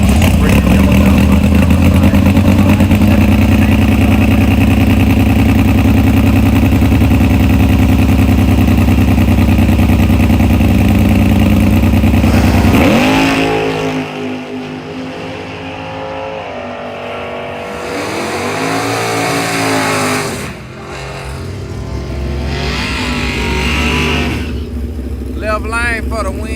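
Bracket drag racing at Xtreme Raceway Park, with a Chevy Nova among the cars launching: a loud, sustained engine roar dominates, then drops into the sweeping rise and fall of passing engines, with a commentator talking over it.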